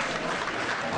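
Applause from doctors and nurses in white coats at the regional hospital of Bafoussam, a brief, dense and steady burst of clapping.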